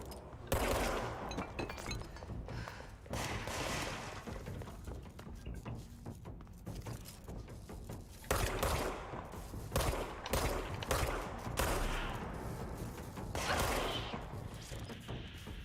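Gunfire in the video game Control, dense bursts of shots, crashes and whooshes running continuously and loudly throughout, with no talk over it.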